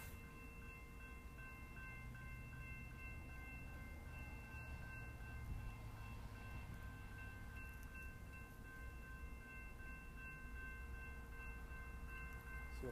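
A BNSF freight train at a depot, heard as a low continuous rumble with steady tonal hums from the locomotive, distant and even in level, with faint clicking on top throughout.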